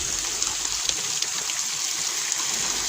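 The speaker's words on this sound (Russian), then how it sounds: "Разместила все черенки и сейчас их обильно полью." Water poured generously over hydrangea cuttings set in perlite, a steady trickling and gushing hiss that runs evenly throughout, close and alone with no talk.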